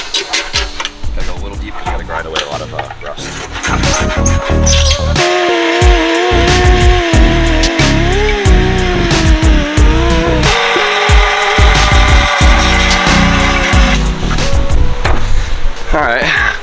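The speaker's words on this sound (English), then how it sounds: "Gotta go a little deep because we gotta grind away a lot of rust." An angle grinder grinds deep into rusted metal on a Nissan R34 Skyline during bodywork, a loud, continuous abrasive whine with shifting pitch as the disc bites, after a brief rougher scraping start.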